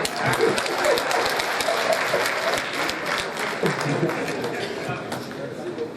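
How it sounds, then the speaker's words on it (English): An audience applauds at a 2018 graduation ceremony, steady crowd clapping with sharp individual claps throughout, with voices talking and calling out underneath. "Applaudissez"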